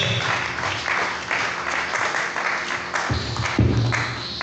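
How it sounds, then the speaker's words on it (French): A church congregation claps and applauds for a prophet, a dense steady round of clapping that carries on for a few seconds from many hands in a reverberant hall. "Acclamons d'abord pour ce prophète"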